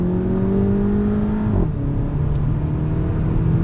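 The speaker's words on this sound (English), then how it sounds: "we're in the 2018 Golf GTI Autobahn trim, leaving Loki Motor Cars on the throttle" A 2018 VW Golf GTI Autobahn with DSG gearbox pulls away hard from a dealership lot, its engine note rising steadily, dipping briefly at a gear change around the middle, then climbing again, loud and close from inside the car.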